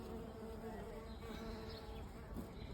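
Small stingless bees buzz faintly and continuously nearby, a soft, steady hum with no voices.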